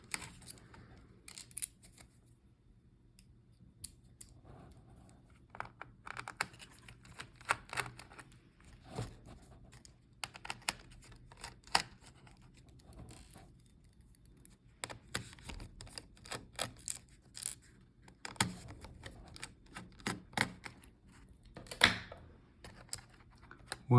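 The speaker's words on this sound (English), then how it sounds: "let's take out these screws" Screws being removed from the battery of an HP 15 laptop, quiet close clicks and small metallic taps scattered irregularly, with faint handling noise between them.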